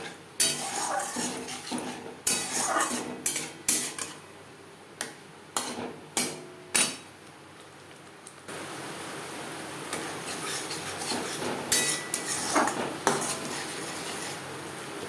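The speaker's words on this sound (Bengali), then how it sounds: "মশলার সাথে বেশ ভালো করে মিক্সড করে দেবো" A utensil mixing salt, turmeric and spices in a pan for a silver carp curry: a series of sharp metallic knocks and scrapes, then continuous frying hiss with softer stirring clinks.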